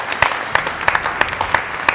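Applause from a Turkish TV talent show audience after a dance and song performance on stage: a sparse run of separate claps at an uneven pace, fairly close, with no voices.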